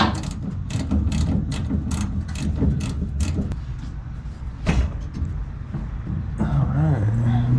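Ratchet on hose clamps at a 2002 Toyota Tundra fuel filler neck clicks in quick regular bursts, then pauses amid metallic handling sounds and a faint voice.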